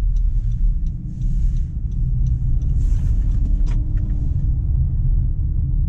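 A 2020 Honda CR-V Hybrid engine running, a steady low rumble heard from inside the cabin, constant and fairly loud with no clear revving.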